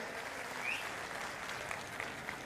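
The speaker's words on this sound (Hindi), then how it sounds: "मैं चाहता हूं एक बार जोरदार ताली उनके लिए बजाएं।" A crowd claps steadily at a Congress party political rally in Latur, India, heard as even, fairly faint applause that holds for the whole stretch with a few sharper claps near the end.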